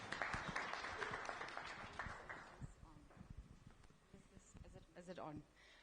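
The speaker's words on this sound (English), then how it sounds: "A round of applause, ladies and gentlemen." An audience at a hospitality design conference claps, a dense burst of applause close and loud at first that thins into scattered claps, with people talking underneath.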